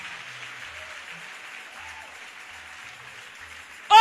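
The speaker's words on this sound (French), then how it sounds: "Clap for Jesus" A church congregation claps steadily for Jesus, a dense continuous wash of many hands held at an even level throughout, with a brief louder burst right at the end.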